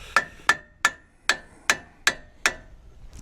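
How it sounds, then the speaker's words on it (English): Seven sharp, ringing hammer strikes on a metal cable plow at a steady, unhurried pace, close and clear with no talking. "Hammer time"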